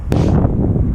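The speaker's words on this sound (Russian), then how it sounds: "Меня достал ветер." Strong wind buffets an open microphone outdoors beside a roadside embankment, a steady, loud, low roar lasting the whole second with a brief sharp gust burst near the start.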